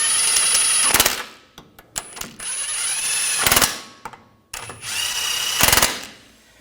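A power tool, likely an impact driver, runs down the nuts on a 2011-2018 Volkswagen Jetta TDI wagon CV axle, in three loud buzzing bursts separated by short pauses. Nobody speaks.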